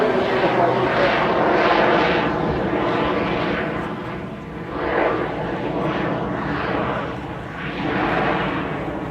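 A heavy propeller aircraft, a modified S2E with altered wings and tailplane, roars through an airshow display at Blackpool, its engine drone swelling and fading in repeated passes, loud and continuous, with a voice talking over it.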